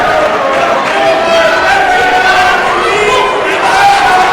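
Wrestling crowd at a live show, a steady loud roar of cheering and shouting that runs without a break, with a commentator talking over it.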